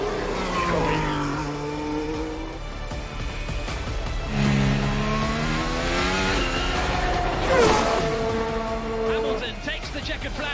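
Formula 1 race cars scream past as the race finishes, high-pitched engines sweeping up and down in pitch as they pass, heard under a steady commentary voice.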